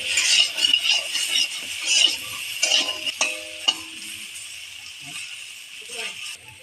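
Brinjal slices fry in hot oil with a light sprinkle of turmeric, giving a steady, close sizzle with occasional stirring clicks and scrapes and no talking.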